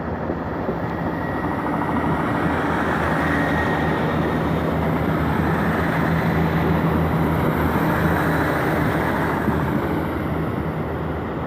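GWR diesel unit 158961 pulls away toward Cardiff Central, giving a steady, loud, continuous rumble and engine drone that holds evenly throughout with no voices.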